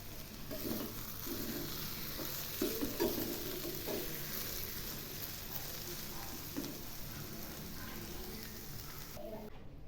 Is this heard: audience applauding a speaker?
no